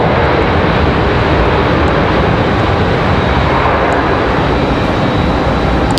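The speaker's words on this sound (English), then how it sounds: "Finally, the A321 is going to be able to get out of here for Delta Airlines." A Delta Airlines Airbus A321 jet takes off at Raleigh-Durham airport, its engines producing a loud, close, unbroken roar that holds steady throughout with no voices over it.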